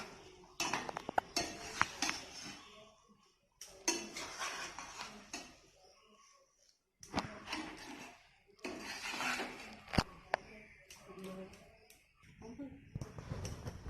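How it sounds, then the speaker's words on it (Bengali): A spoon stirs date pulao in a cooking pot, making intermittent clinks and scrapes against the metal in short bursts separated by brief quiet gaps, close by. "এবারে ভালো করে নাড়িয়ে দিতে হবে।"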